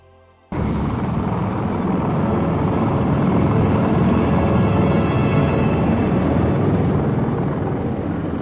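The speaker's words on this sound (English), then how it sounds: "do you hear that? Another helicopter." A loud helicopter roar bursts in suddenly and holds steady and close, a dense rumbling drone with no voices over it.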